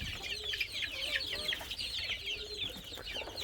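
A flock of deshi farm chickens, several of them sick, keeps up a soft, continuous clucking and chattering throughout, somewhat faint and unbroken.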